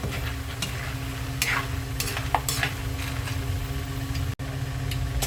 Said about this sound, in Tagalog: Siyempre, halo-haloin natin para pantay yung nakaluto.